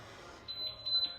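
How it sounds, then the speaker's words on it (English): A single electronic beep, most likely a workout interval timer, sounds as a short, clear high tone that repeats briefly in a quiet room. "I'm glad that beep went"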